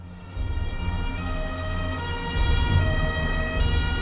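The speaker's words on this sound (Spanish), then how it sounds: "se oyeron las sirenas de los coches de policía resonando por las calles de Palermo" Police car sirens wail continuously through the streets of Palermo, loud and steady with a dense layered tone over low traffic rumble, no talk.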